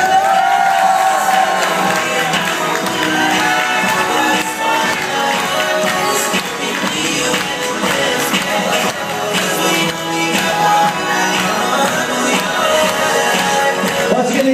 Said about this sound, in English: Ladies and gentlemen, nice round of applause for Camilo Santos and Erwin Tai.